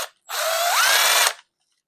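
Power drill driving a screw while repairing a power amplifier, one short burst of whirring motor lasting about a second with a rising pitch, close and clean, starting and stopping abruptly with silence either side.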